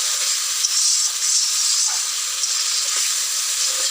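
Spices fry in a pan for egg curry, already cooking with onion, giving a continuous bright hiss and sizzle at an even, fairly loud level throughout.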